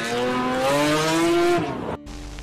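Ferrari engine revving hard with a rising, strongly harmonic whine, then a sudden cut and a brief tire squeal or skid as the car shifts, loud and close with no talking.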